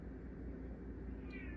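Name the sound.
cat meowing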